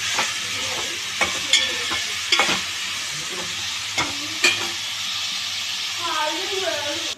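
Ivy gourd chutney ingredients with salt are stirred in a pan over a soft, continuous sizzle, with occasional sharp scrapes and clicks of the spoon against the pan and a voice briefly at the end.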